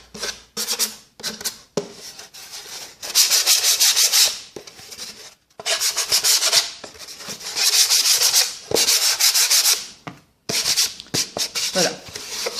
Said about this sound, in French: Donc dans un premier temps, on ponce.